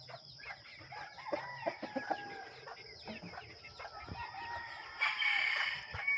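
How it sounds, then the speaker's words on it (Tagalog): Chickens cluck repeatedly nearby, with a rooster crowing loudly toward the end; no talking. "mga manok ko"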